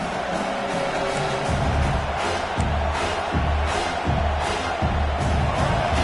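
Football stadium crowd at a South Carolina vs Arkansas game roaring steadily behind the defense on a big third down, a dense continuous wash of cheering with low rumbling swells, no clear voices above it.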